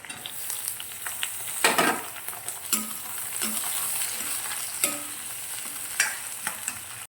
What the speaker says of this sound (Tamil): வெங்காயம் வதங்குறதுக்கு கொஞ்சம் உப்பு சேர்த்துக்கோங்க. வெங்காயம் நல்லா வதங்கட்டும்.